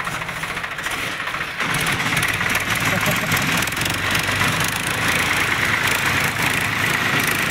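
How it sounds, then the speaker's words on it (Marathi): A tractor pulling a rotavator through a field rumbles steadily at close range, a loud continuous mechanical drone of farm machinery running without pause. "अतिशय छान प्रकारे रोटावेटर चालू आहे."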